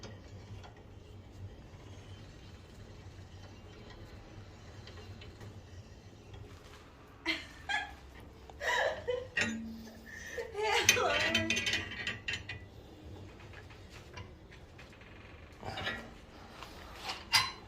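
Bolts being tightened on a Harbor Freight 30-inch metal brake give off intermittent ratcheting clicks and metallic clunks in short bursts, close up, with quiet pauses and a low background hum between them.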